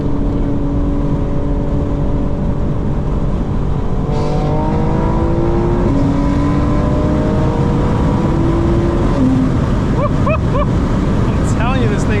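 Engine of a 900 hp 2025 BMW M4 Competition xDrive dropping a gear and pulling hard, a loud, steady roar with rising and falling tones and quick shift blips toward the end, heard from inside with wind and road noise.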